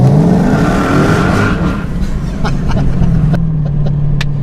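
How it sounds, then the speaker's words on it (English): A Dodge Hellcat's supercharged V8 engine revs and roars loudly up close, with a rising supercharger whine over the deep rumble and no voices. "you can hear that supercharger whine there"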